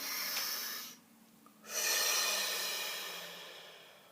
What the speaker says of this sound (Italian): respirone sciamanico